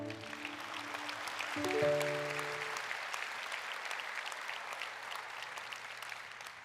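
Congregation applause during a Catholic Mass, many hands clapping steadily and faintly from a distance, with sustained organ or keyboard chords under the first half before the clapping continues alone.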